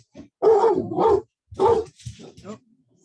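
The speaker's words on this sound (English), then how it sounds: "My dog was just going nuts." A dog at home goes off in a few short, fairly close barks and yelps, split into separate bursts with short gaps between them.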